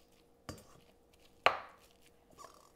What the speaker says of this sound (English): I'm using a potato masher just to break them up just a little bit